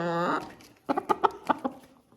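A young rooster lets out a short crowing call, followed by a quick run of about five or six close, sharp clucks from chickens.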